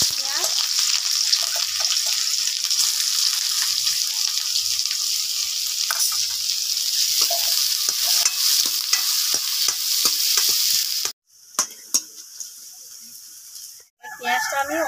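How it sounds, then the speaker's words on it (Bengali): Sliced onion sizzles and crackles loudly in hot oil in a pan, a continuous bright frying hiss with occasional stirring scrapes, briefly cutting out twice near the end. "ভেজে নেব পেঁয়াজ।"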